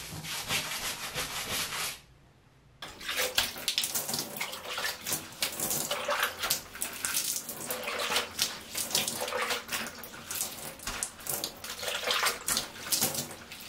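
Water pours and splashes steadily across moldy shower tile grout during a rinse, a continuous broadband spray with brief gaps and rubbing, loud and close, no voices.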